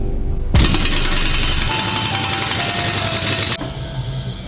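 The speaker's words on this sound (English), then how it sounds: "Ooh, that truck sounds a mess." A truck engine running roughly at an excavator track repair job on a John Deere 250G, a loud, harsh, steady roar that starts abruptly, holds for about three seconds and then drops to a quieter drone.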